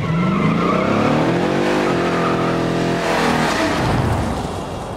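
A 426 Hemi V8 in a Plymouth Cuda muscle car roars and revs hard, its rumbling pitch climbing and falling as tires squeal, loud and close throughout.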